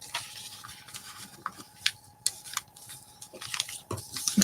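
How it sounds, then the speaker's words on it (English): Scissors snip through paper along a marked line while a collage is being made, giving a run of short, sharp, close crisp cuts and rustles at an uneven pace with no talking. "I'm just going to cut it with the scissors along that line."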